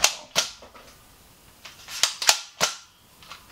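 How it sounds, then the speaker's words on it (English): A Nerf Zombie Strike toy blaster is cocked back and primed, giving a quick run of sharp, dry plastic clicks and snaps, about seven close, crisp hits spread over a few seconds with short pauses between them. "You just cock this guy back to prime it"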